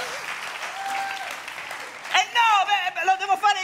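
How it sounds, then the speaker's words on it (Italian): A comedy club audience on an Italian television stage applauds for a few seconds, with a voice speaking over the clapping and then taking over loudly in the second half. "fatemi un applauso"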